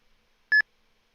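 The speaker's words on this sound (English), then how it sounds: "I just heard a beep." A single short electronic beep from a futures trading platform, clean and tonal, sounding once alone against near silence.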